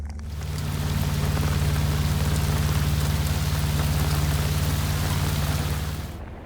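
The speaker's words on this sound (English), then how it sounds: "It feels quite good to be drenched in a tropical downpour, and Tarka appreciates it too, I think." Heavy tropical downpour drenching a sailboat at sea, a steady, dense roar of rain hissing on deck and sails, continuous and loud throughout with a strong low rumble and no voices.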